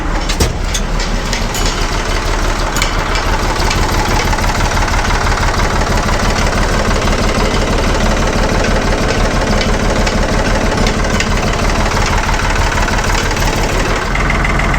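The 1975 550 backhoe's diesel engine runs loud and close at a steady, lumpy idle, its low knocking throb unbroken throughout, with no talking over it.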